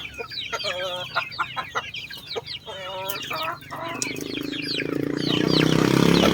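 Chickens cluck in quick, repeated bursts on a chicken farm, close and fairly loud, before a rising broadband rush of noise covers the end.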